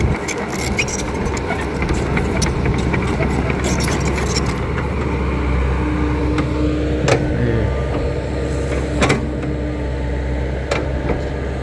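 A new excavator's engine drones low and steady throughout a test drive on an earth-clearing job, a continuous rumble with faint intermittent clanks and hydraulic whines over it, no clear speech.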